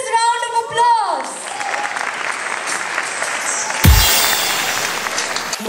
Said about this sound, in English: Can I have a thunderous round of applause?